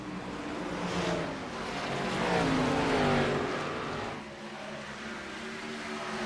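Race cars circle Iowa Speedway in a racing video game. Engine whine rises and falls as cars pass, swelling to a peak and fading, heard fairly faint and alone.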